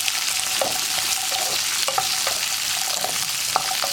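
Chopped onion, green chilli and shallots sizzle steadily in a hot pan for potato masala, with several clinks and scrapes of a spoon stirring them close up and no voices.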